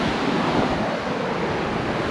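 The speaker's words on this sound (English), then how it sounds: "The wind is pretty strong here though" Strong wind buffets the microphone on a beach in St. Barts, a loud, continuous roar of rushing air and surf with no pause throughout.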